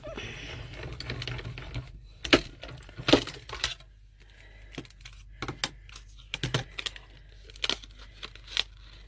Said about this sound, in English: I'm just going to go in and die cut that